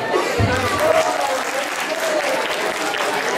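An audience applauds the EC committee at a welcome event, a dense wash of clapping that carries through the whole stretch, steady and fairly loud.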